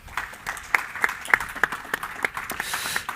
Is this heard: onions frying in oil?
no